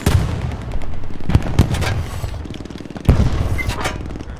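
Artillery guns fire in the Hell Let Loose battlefield game, with heavy booming blasts at irregular intervals over a constant rumble of distant gunfire, two prominent close reports standing out.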